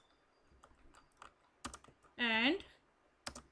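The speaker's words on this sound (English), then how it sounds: "start typing the poem like this" Sparse, quiet keystrokes on a computer keyboard while a poem is typed into WordPad, with a few isolated clicks and one brief tonal chirp midway.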